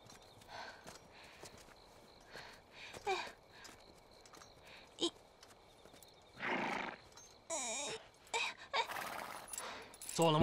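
Horse whinnies and hooves clip-clop on a period war-drama set, with several neighs and hoof sounds scattered among other noises and occasional talk.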